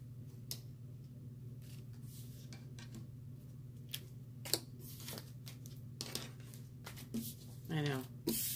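Tarot cards shuffled by hand, giving soft intermittent riffling and tapping clicks over a steady low hum, with a brief burst of voice near the end.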